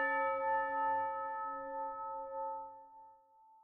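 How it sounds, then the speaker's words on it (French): A small church bell is struck once and rings alone, its bright tone hanging and slowly fading over several seconds. "Une petite cloche au début."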